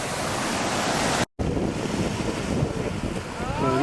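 Ocean surf rolls in at Laguna Beach, a broad continuous wash of breaking waves mixed with heavy wind buffeting the microphone, briefly cutting out near the start before the roar returns loud and close.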